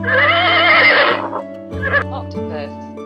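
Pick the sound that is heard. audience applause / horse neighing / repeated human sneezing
horse neighing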